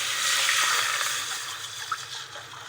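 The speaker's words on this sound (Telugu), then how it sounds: "నాలుగు గ్లాసుల వాటర్ పోసాను" Water pouring into a pot of rice for bagara rice, a continuous close splashing rush that eases slightly toward the end, with no talking.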